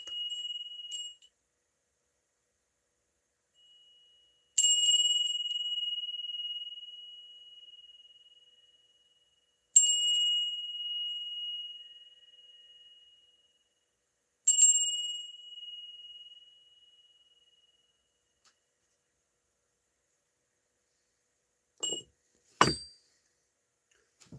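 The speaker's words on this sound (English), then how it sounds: "this is for you, my friend, for ringing the bell" Three clear bell dings ring out, each one sustaining and fading slowly, followed by a couple of sharp clinks near the end.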